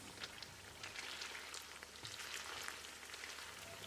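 Chicken frying in a pan over a low flame, a soft, steady, fine sizzle like light rain that continues evenly throughout without talk.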